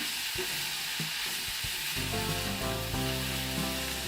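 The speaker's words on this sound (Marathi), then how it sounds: "मिक्स करून घेऊया शेंगदाण्याचं कूट एक ते दीड चमचा चवीनुसार मीठ सर्व भाजी मिक्स करूया" Vegetables tossed in a hot pan with crushed peanut powder and salt give a steady sizzle, with a few scraping stirs early on and a fuller frying hiss in the second half, close and continuous with no talking.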